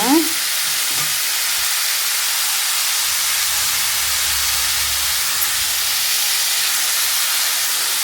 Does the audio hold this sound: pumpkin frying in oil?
yes